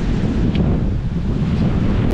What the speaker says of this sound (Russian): Ветер просто какой-то безумный на самом деле.